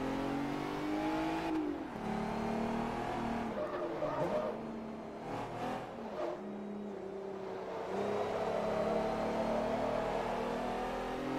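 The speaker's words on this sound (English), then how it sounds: "Absolutely rev the arse off of this." A Mercedes engine in Forza Motorsport 3 revs loud and close, rising and falling in pitch with gear-change dips, steady throughout with no talk over it.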